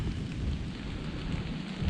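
A thunderstorm's steady rain hisses in a continuous wash with a low, rumbling undertone of thunder, heard at a moderate distance outdoors during a deer hunt.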